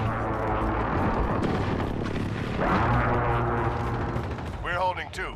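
In a video game battle, a precision airstrike lands amid heavy gunfire, with a continuous roar of blasts and rattling shots and a voice speaking over the din, loud and dense throughout.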